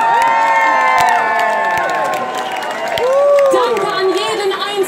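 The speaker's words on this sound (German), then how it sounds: "einen großen Applaus für euch" Outdoor crowd at a Munich Christopher Street Day pride event in 2018 cheers and applauds loudly, with whoops and shouts rising over continuous clapping and a music-like tonal backdrop.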